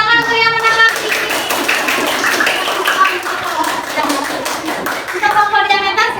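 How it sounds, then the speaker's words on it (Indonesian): Children in a classroom applauding the winning group, a burst of dense clapping and tapping that runs throughout, with voices faintly mixed in. "Tepuk tangan untuk yang menang."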